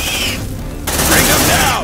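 A sentry gun in the video game Aliens: Dark Descent opens fire in a loud, dense automatic burst that starts abruptly and continues rapid and close, after a brief quieter lead-in.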